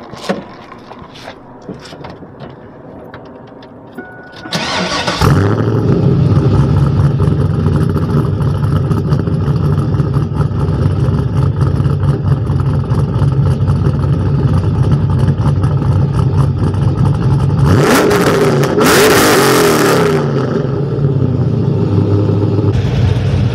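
A modified 2002 Chevrolet Camaro Z28 with over 500 hp cranks briefly and starts with a burst, then holds a loud, steady, rumbling idle close by, with a short revving flare near the end.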